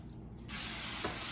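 Cooking spray hisses steadily into a baking pan in one loud continuous burst after a brief quiet start.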